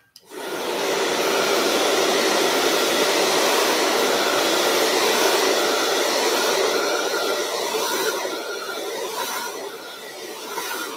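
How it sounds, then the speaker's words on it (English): A hair dryer switches on and blows steadily onto sprayed hair, a loud, even whooshing hum that carries on alone for the whole stretch and eases slightly toward the end. "Straight in with a hairdryer."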